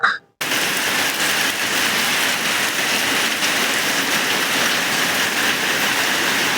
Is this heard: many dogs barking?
no